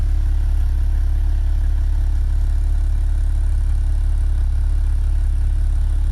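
A 2017 Maserati Levante engine idling, a loud, steady low rumble with constant hum and no revs, close to the mic and without talk.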